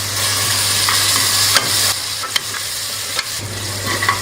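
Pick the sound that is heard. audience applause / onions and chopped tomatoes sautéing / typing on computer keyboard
onions and chopped tomatoes sautéing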